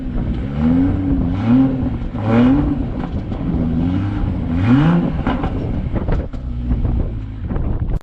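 A BMW M340i engine revs through several rising sweeps, with the exhaust note climbing and falling repeatedly under steady wind buffeting.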